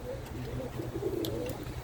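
Birmingham Roller pigeons coo in low, steady murmurs that run continuously and close by, with a few faint higher chirps over the top and no talk.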